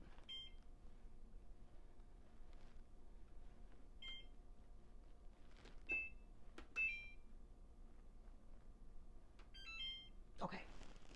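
A kitchen oven timer gives short electronic beeps, scattered and faint over a quiet background, during home baking of honey nut cookies.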